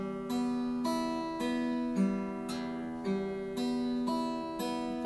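A fingerstyle roll on a guitar picks the sixth, third, second and first strings in turn. The ringing notes repeat in a steady, clear pattern about five times, played quietly and close with no talk.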